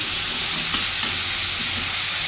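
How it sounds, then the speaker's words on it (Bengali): Steady, close sizzle of potatoes and onions frying in hot oil, a continuous crackling hiss with no talking. "আলু পেঁয়াজ অলরেডি তেলে পড়ে গেছে, তেল গরম হয়ে গেছে।"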